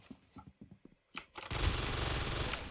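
Gunfire in the Roblox Arsenal video game starts as a few sharp, scattered bursts. It then breaks into a dense, loud and sustained barrage of rapid shots.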